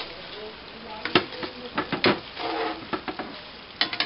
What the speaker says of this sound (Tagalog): Put ham in little oil.